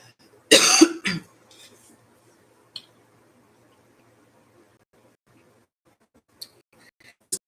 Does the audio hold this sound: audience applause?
no